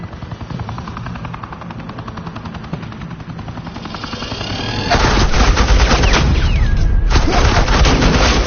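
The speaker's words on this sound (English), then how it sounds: "Suppressing fire." Sustained suppressing gunfire in a Batman video game builds into a loud, dense roar of rapid automatic shots. It carries on without pause over a rumbling background, with a brief whining sweep near the end.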